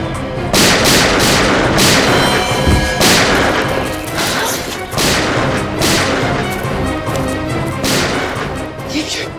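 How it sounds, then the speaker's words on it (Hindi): Gunshots fired in a jungle during a police drama chase, heard as loud, close, rapid-fire reports repeating steadily with booming echoes, with no voices over them. "ये गोलियों की आवाज कैसी? लगता है वहां से आई है।"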